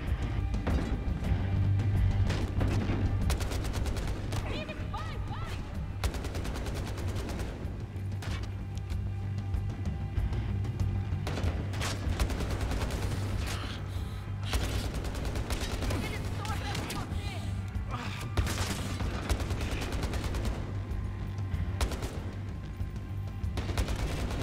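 Sustained video game gunfire, dense repeated shots and bursts with crashes and impacts filling the whole stretch, loud and close, with a voice occasionally speaking underneath.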